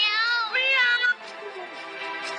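The lucky cat in Mobile Legends lets out a meowing call with a rising then falling tone, a clear, steady sound lasting about two seconds, with no talk over it.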